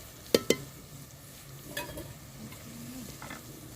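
A masala frying in a pan before small white brinjals go in, a faint soft sizzle with two sharp utensil clinks early on and a few quieter scrapes, close and with no one talking.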